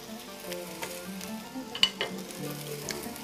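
Liver and onions fry in a pan on the stove, a soft, close sizzle with scattered taps and scrapes of a spoon stirring the meat and onions.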